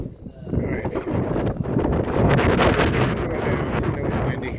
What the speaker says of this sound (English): Especially when the wind's blowing.